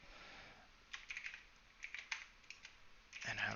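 Rapid keystrokes on a computer keyboard while writing code, bursts of close, crisp clicks in irregular runs, quiet and with no talking.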